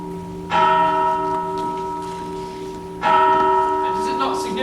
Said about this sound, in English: The cathedral bell summons us.